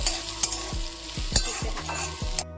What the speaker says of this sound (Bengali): আলু উচ্ছে ভাজা হয়েই এসছে